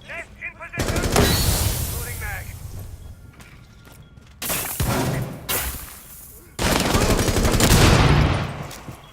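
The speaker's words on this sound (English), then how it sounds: "Grizz trying to get a couple shots off on a Reaper" Gunfire in a Rainbow Six Siege esports match, loud bursts of rapid automatic shots and blasts in several clusters with brief gaps between them, a commentator's voice running under the action.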